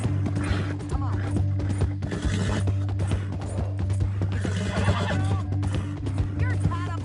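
A horse in the video game Red Dead Redemption 2 neighs repeatedly over hoof clip-clops and a low, droning music bed, with game characters talking throughout.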